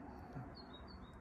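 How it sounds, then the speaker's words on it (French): Sparrows chirping faintly in a vegetable garden, a few short, high tweets in quick succession over a low background hum. "les petits moineaux."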